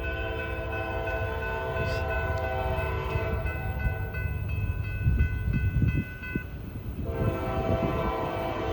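A Norfolk Southern freight train led by a C6M locomotive rolls past at Gaffney, South Carolina, its horn sounding sustained tonal blasts over a rumbling engine and rail noise that swells midway.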